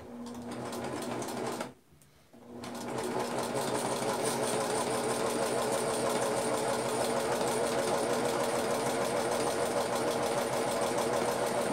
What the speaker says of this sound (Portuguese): nós vamos rebater a costura bem próximo à região da dobra